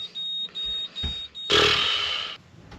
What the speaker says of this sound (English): Oh, here we go, there's an alarm beeping.